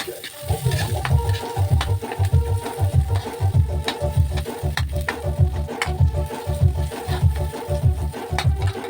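Sliced onions sizzle and crackle in a hot pan for ginataang sitaw at kalabasa with dilis, with steady frying hiss and rhythmic stirring scrapes repeating throughout, close and fairly loud.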